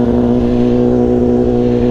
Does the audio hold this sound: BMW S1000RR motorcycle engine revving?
yes